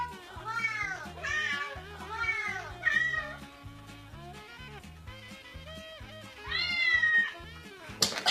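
A human-to-cat translator app plays a string of loud, close cat meows, several in quick succession, then a pause and two more meows. No one talks over them.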